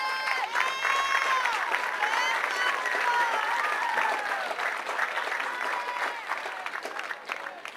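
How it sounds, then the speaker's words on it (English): An audience at a cadet drill competition during a family weekend applauds steadily with scattered cheers, a sustained, fairly loud clapping that tapers slightly toward the end. "Give a round of applause for Foxtrot."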